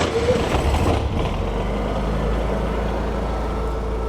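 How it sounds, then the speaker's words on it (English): A Honda generator running steadily in a food truck, a continuous low engine hum with a constant rumble throughout, fairly loud and close, with no talking over it. "you're going to be able to turn on the generator by basically turning this knob on the on position and pushing the start button"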